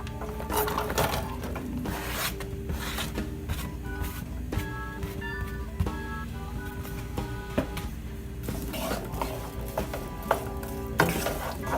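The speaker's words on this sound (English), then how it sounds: "You're going to saute until they're just translucent." Onions and garlic sautéing in oil over medium-high heat, a soft steady sizzle beneath frequent utensil scrapes and knocks against the pan.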